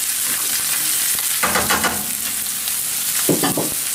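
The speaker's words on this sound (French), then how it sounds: "Je commence donc par mettre les oignons, parce que les oignons, je vais les faire revenir là-dedans." Onions fry over high heat for a chicken curry, a continuous hiss of sizzling oil broken by a few bursts of stirring and scraping in the pan.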